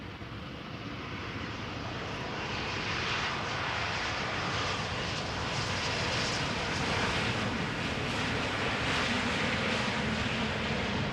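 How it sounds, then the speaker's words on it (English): An Air France Embraer 190 jet at Amsterdam Schiphol, its engine roar swelling after a couple of seconds into a loud, sustained rushing drone with no voices over it. "Embraer 190 from Air France"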